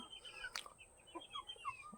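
A white hen clucks after laying an egg, faint scattered clucks and calls at a distance over steady background hiss on a small local poultry farm.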